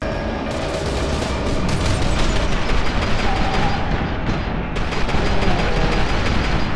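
Gunfire in the shooter game F.E.A.R. 2 comes as a dense, loud fusillade of rapid shots and booming impacts, continuous and heavy throughout with no pause.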